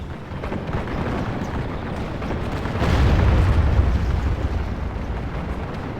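Artillery bombarding enemy units in the Pike & Shot strategy game, a continuous rumbling roar of distant booms that swells into a heavier, louder surge midway, with no talking.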